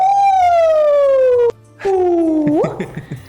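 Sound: person imitating an ambulance siren

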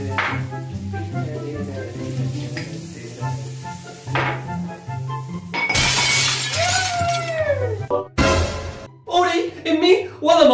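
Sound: drinking glass dropped and shattering

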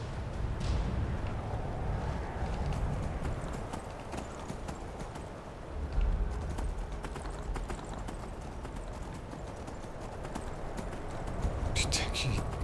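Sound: horse hooves clip-clopping in video game Skyrim

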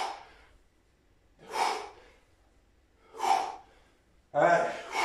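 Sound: heavy breathing during weight training exercise

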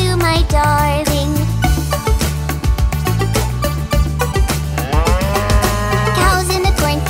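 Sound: cows mooing in a nursery rhyme cartoon

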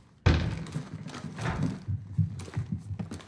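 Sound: footsteps on the rooftop in Call of Duty Modern Warfare video game

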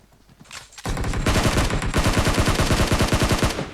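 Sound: Uzi submachine gun firing in video game PUBG Mobile

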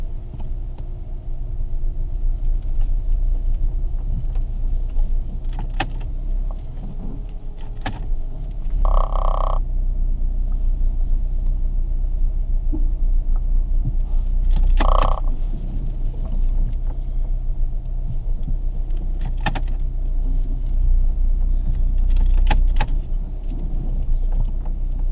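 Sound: Fiat 500 car being turned around

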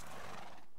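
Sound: horse neighing and hooves in Minecraft, a video game

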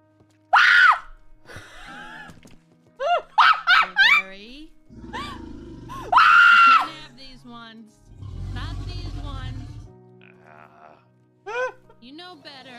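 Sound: character screaming in a Wild RP roleplay video game

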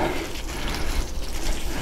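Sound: water poured from a can onto a hotbed

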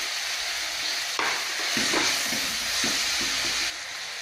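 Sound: onions with curry leaves and green chillies sautéing, stirred in pan

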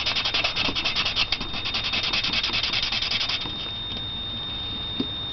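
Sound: sanding block rubbing metal edges

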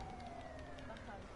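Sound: ambulance siren in GTA Online video game

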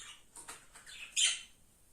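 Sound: budgerigars chirping

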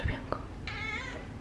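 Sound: cat meowing

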